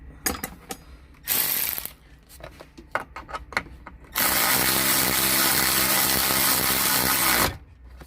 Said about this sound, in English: Now I can use the ratchet.